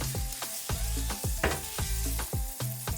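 A quesadilla fries in butter in a pan, crackling and sizzling close up, with a series of sharp knocks and clatters in a loose rhythm and a musical tone underneath.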